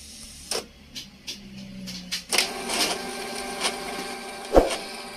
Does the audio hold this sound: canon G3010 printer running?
yes